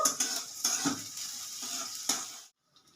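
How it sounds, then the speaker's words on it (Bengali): Chopped onion and chilli sizzling in hot oil in a wok, steady frying hiss broken by sharp clinks of a spatula stirring against the pan, then cutting off abruptly. "আমি প্রথমে এর মধ্যে পেঁয়াজ কুচিটা আর লঙ্কাটা দিয়ে দিলাম"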